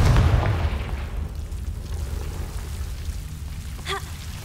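A Confringo blasting spell explodes in Hogwarts Legacy: a sustained rumbling, crackling burst that starts loud and slowly fades, followed by a short rising chime near the end.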